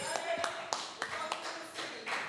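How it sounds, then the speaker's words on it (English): Scattered audience applause at a community consultation event, a handful of distinct claps at uneven intervals, fairly quiet and thin, with a faint voice in the background. "Give Mr. Grant a round of applause."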